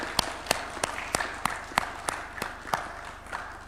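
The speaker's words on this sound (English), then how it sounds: "You can give them a round of applause." A small group at a government cooperation pact signing ceremony at State House claps in a sparse, fairly steady rhythm of distinct handclaps, moderately faint against a quiet room.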